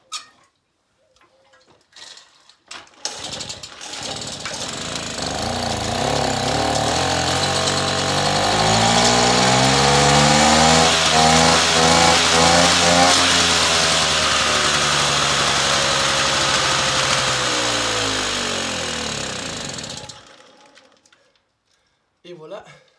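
A small moped engine sputters to life, then revs up and holds a loud, droning pitch for about fifteen seconds before cutting out, close by.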